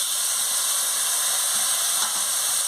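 Spice powders of chilli, cumin and coriander fry in hot oil for a magur fish curry, a loud steady sizzle and hiss with one faint stir-scrape partway through.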